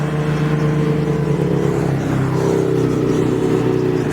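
Sport motorcycles ride past on Highway 4 in Alpine County, a steady engine roar close by that builds and shifts in pitch as the bikes pass, with no talking.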